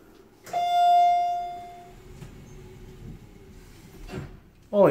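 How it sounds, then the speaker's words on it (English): A modernized General hydraulic elevator sounds a single clear arrival chime, a bright tone that rings and fades over about a second, followed by quiet cab hum and soft door or mechanical clunks. "Holy moly, one chime"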